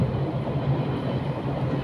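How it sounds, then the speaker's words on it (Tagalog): A long cargo train carrying timber rumbles past outdoors, a steady low roar with rolling wheel noise that fills the whole stretch without pause; no voices. "Yung cargo dumaan. Napakahaba niyan mga kakulbiks ng tren na yan."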